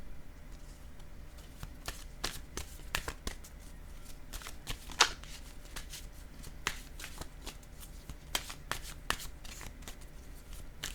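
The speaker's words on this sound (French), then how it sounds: "je vais piger maintenant une carte" Tarot cards are shuffled and drawn, giving soft, irregular riffles and crisp clicks and snaps at close range in a quiet room.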